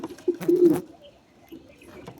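A pigeon near its chicks gives one short, close coo, followed by a quieter second call after a pause.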